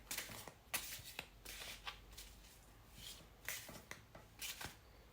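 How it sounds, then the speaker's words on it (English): Tarot cards being shuffled and drawn from decks, with soft papery riffles and quick slaps of cards repeating in irregular bursts, close and quiet, with no talk. "with your tarot cards, we'll be taking 2 cards from each deck"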